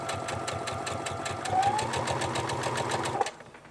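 A sewing machine stitches quilt pieces together, a close, steady rapid chatter of the needle that speeds up slightly, then stops abruptly at the end.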